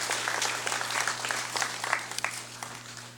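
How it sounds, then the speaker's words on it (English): A round of applause in a legislative chamber during a congressional special session, many hands clapping at moderate level with a few sharper individual claps standing out over a steady electrical hum. "let's give them another round of applause"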